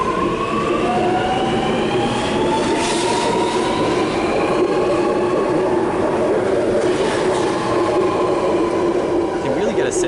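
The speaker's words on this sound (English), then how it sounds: "You can really get a sense of the acceleration of these trains." A Sydney Metro train departs Chatswood and accelerates, its motor whine rising steadily in pitch across the clip, loud and close, with wheel clatter on the rails and brief voices.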